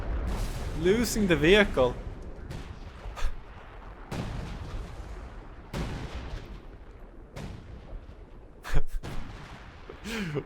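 Dive bomb explosions in Company of Heroes 2, several scattered booming impacts and gunfire bursts in a skirmish against an easy computer opponent, with someone talking throughout.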